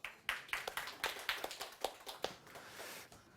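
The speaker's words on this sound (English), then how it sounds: "give him a round of applause" An audience at a retro gaming keynote on Java, JavaFX and Raspberry Pi breaks into applause, a steady run of sharp, fairly distant claps at quiet level that thickens into a softer wash of clapping toward the end.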